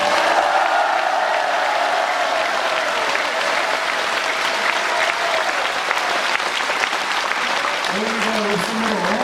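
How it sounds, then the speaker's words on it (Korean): Audience at a Korean party founding preparatory committee gives sustained, loud applause to adopt the founding proposal, dense clapping throughout with some cheering and crowd noise. "의의가 없으시면 큰 박수로 채택하겠습니다."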